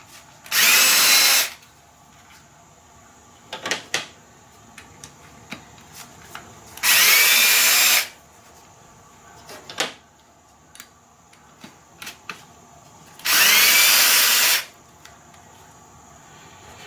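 A power wrench spins nuts on the rear valve cover of a fourth-generation Nissan Maxima. It gives three separate loud whirring bursts of about a second each, with light metallic clicks and taps in the gaps.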